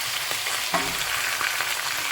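Pork sizzles and fries steadily in a pan, a dense continuous crackle with a few brief stirring scrapes and pops rising out of it, close and fairly loud with no one talking.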